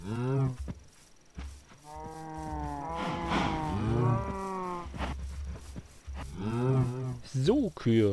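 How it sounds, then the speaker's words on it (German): Cows moo repeatedly in the Minecraft video game, a string of drawn-out, overlapping lowing calls of varied pitch, close and fairly loud, with no talk over them. "So, Kühe."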